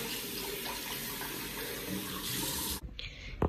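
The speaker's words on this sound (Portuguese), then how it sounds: "Agora eu vou tomar um banho" Cold shower water runs in a steady hiss and spatter, then cuts off abruptly near the end, leaving a few faint knocks and drips.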